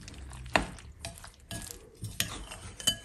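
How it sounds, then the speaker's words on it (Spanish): Three whole eggs being mixed into a batter, with soft scraping and a few sharp clinks of a utensil against the bowl, quiet and close. "Le voy a agregar los 3 huevos enteros. Igual vamos a integrar muy bien."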